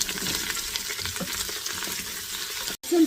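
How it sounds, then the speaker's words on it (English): Onions fry in an Instant Pot with a steady sizzle and soft stirring scrapes, close and fairly loud, cut by a brief silence just before the end. "Onions are fried well now."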